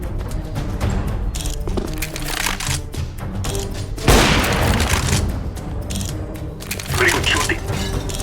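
Gunfire rings out in the mobile game Counter-Strike on the Nuke map, with sharp cracking shots and a louder burst midway, mixed with game noise and spoken voices.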